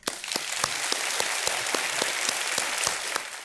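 Studio audience on Kaun Banega Crorepati applauding to welcome a contestant, dense steady clapping with a few sharper accented claps, loud and continuous from start to finish.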